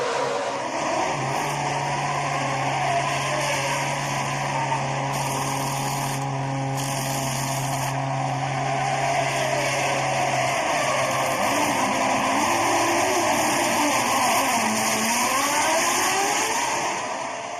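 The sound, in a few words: Formula 1 race cars, 2006 Chinese Grand Prix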